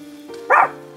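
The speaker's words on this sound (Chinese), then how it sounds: "可是旁边的狗在叫" A dog barks once nearby at a campsite in Chiayi, Taiwan, a single short bark over a steady low hum of background noise.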